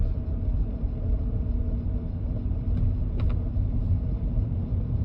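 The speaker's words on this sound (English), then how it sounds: "at least for right now, the car is driving" A car treated with Liqui Moly MoS2 anti-friction engine additive drives along a road, giving a steady low rumble of engine and road noise from inside the cabin, with no talking.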